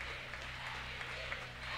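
Applause from teammates and the crowd at the Holmberg Center for a tournament MVP at a basketball championship final, a steady dense clapping wash with crowd noise throughout.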